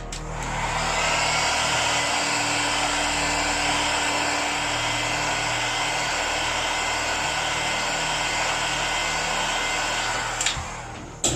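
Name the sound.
heat gun warming iPhone 7 screen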